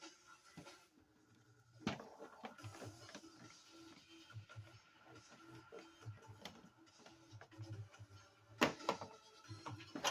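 Bolts being taken out of the VVT solenoid on a 2008-10 Honda Accord, faint close ratchet clicks and metallic ticks in uneven bursts, with a few sharper knocks.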